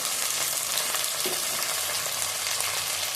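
A spoonful of ginger paste fries in a hot pan, giving a loud, continuous sizzle close by that carries on steadily with no one speaking.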